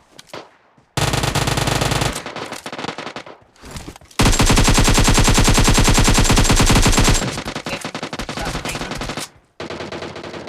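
Rapid automatic gunfire in a video game comes in long, loud bursts with short pauses between them, and a steady stream of shots fills most of the stretch.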